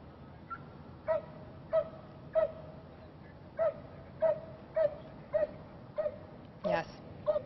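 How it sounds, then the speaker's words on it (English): Stranded dogs surrounded by Florida floodwater give roughly a dozen sharp barks and whimpering cries at fairly regular intervals, at moderate distance over a quiet background. "They've been barking and crying here now for at least 2 hours, surrounded by water"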